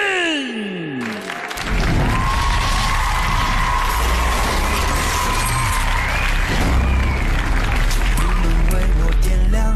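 An arena crowd at a kickboxing event applauds and cheers as the fighter Liu Mingxin enters, a loud roar kicking in after a brief swoosh and holding steady, with music and voices mixed in.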